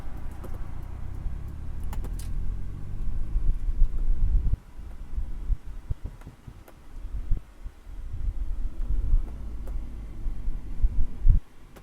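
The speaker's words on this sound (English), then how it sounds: "Downshift to third real quick." A 42k-mile, like-new Mazda Miata engine just after a downshift to third gear, a steady low drone from inside the car with a dip midway and some faint rattles and clicks, no talking.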